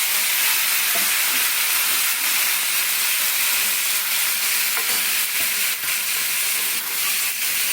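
Pineapple pieces frying in hot oil with ghee and raisins in a pan, a steady, close sizzle and hiss broken by scraping stirs of a spoon against the pan.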